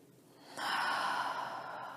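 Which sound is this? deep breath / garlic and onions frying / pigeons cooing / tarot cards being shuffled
deep breath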